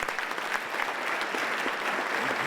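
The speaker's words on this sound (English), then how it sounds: "you can tell from everyone's applause that they already like you" Audience at a sharing event clapping to welcome a guest, a sustained, moderately loud patter of many hands that stays even from start to finish, with no talking over it.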